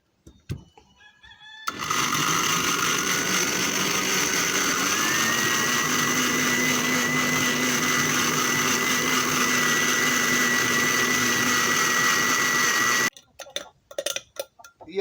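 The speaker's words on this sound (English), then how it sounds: "Time to blend." A kitchen blender blends pumpkin punch with soaked ingredients, a loud, steady whirring motor roar that starts after about two seconds, runs unbroken, then cuts off near the end.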